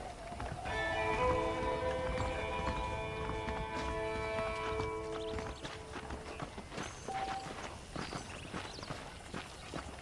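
Steady clip-clop of horse hooves at a walking pace in Red Dead Redemption, with a sustained musical tone layered over the first half and background ambience throughout.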